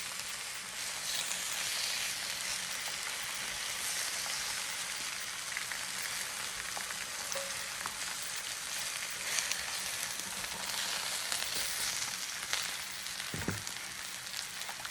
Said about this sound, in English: we're just going to go ahead and flip them and cook them another 3 minutes on the other side